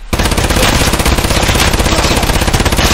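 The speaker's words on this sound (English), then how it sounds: "I shot him in the legs multiple times." Sustained, very loud fully automatic gunfire in the video game Escape from Tarkov, a dense rapid stream of shots close up with no break, firing in a tank room.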